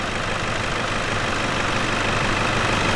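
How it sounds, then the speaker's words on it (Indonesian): A four-cylinder car engine idles steadily during vehicle preparation, giving a constant, close, even rumble with no talking. "Udah RPM udah masuk, idle-nya otomatis sudah siap karena ini bagian dari persiapan kendaraan."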